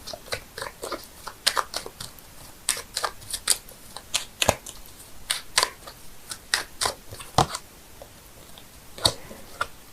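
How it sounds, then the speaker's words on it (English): A deck of tarot cards shuffled by hand at close range, giving a quick run of crisp snaps, slaps and riffles in uneven bursts, with no talking. "I'm shuffling the cards here"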